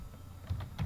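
Keys on a computer keyboard being typed, a few soft clicks and two louder bursts of keystrokes near the end, close up with no talking.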